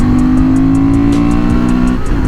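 A Honda 750 Transalp motorcycle engine holds a loud, steady, buzzing drone, then its pitch shifts as it revs, close and dominant with no talking.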